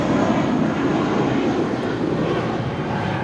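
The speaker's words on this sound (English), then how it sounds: "This is United 1977 departing to San Francisco on an A320" A United Airbus A320 departs Los Angeles International Airport for San Francisco, its engines producing a loud, close, steady roar with strong low rumble that fills the whole short stretch without talk.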